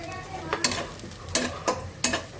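Onions fry in a pan with a soft continuous sizzle, broken by several sharp scraping stirs of a utensil at a fairly even rhythm.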